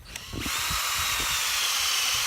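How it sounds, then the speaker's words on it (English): A power drill bores a tap hole at a slight upward angle into a maple tree, a sharp start then a continuous loud high whine close to the microphone, with low grinding pulses as the bit bites into the wood. "we're going to drill at a slight angle up into the tree"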